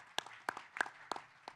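Sparse applause from a small panel audience: about five scattered hand claps with uneven gaps, soft and nearby, with no voices.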